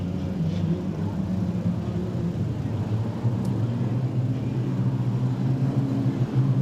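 Production sedan race cars on the dirt oval at Maryborough Speedway give a steady, dense engine rumble from a pack running together, continuous and moderately loud without clear passes.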